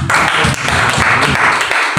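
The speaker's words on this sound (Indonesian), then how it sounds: "Tepuk tangan untuk Tuhan Yesus." A church congregation in Jakarta applauding for Jesus during a Sunday service, loud, dense clapping throughout with some low rumble and voices mixed underneath.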